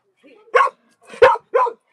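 A dog near a front door barks three times, loud and close, in short excited bursts with brief pauses between them.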